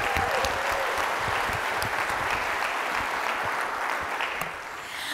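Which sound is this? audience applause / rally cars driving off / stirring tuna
audience applause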